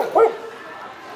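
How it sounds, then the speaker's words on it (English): A dog on a walk on a cold day gives a single short bark at another dog, close and fairly loud, followed by quiet outdoor background. "Barking at the other dog."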